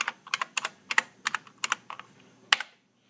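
Typing on a Unicomp Classic 104 USB Model M buckling-spring keyboard: about a dozen sharp, clicky keystrokes in an uneven rhythm, close and crisp, followed by silence.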